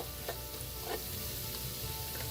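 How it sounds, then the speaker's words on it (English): Spice powders frying gently in a pan over low heat, giving a constant quiet hiss with a few faint crackles and no voices. "You want to cook them gently for about a minute"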